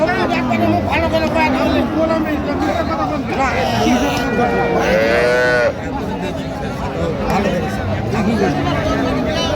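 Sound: cow with calf at a cattle market

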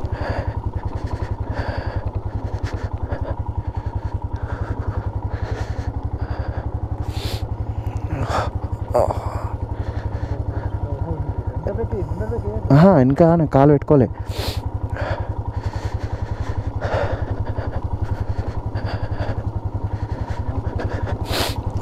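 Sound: motorcycle off-roading on a rough diversion road in Ladakh

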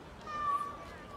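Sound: cat meowing in the street

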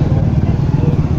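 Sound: motorcycle

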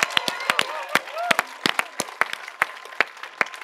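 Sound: audience applause at Buffer Festival Gala

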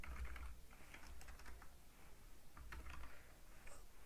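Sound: typing details on a computer keyboard

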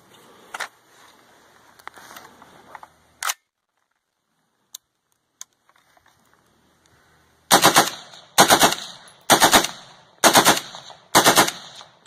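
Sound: FN SCAR rifle firing five rounds on full auto

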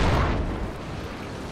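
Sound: mortar explosions in video game Project Reality

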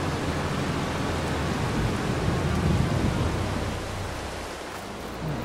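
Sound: rain from Farming Simulator 22 video game

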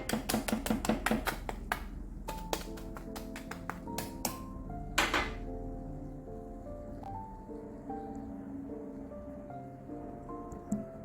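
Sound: crispy toad in the hole (sausage in batter) being cut

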